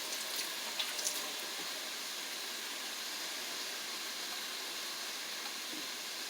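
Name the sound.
washing hands under a running tap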